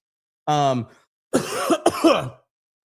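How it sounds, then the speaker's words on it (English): Two rough coughs break out close by, a short one followed by a longer, raspy bout, with brief silence between them. "I'm tired of coughing."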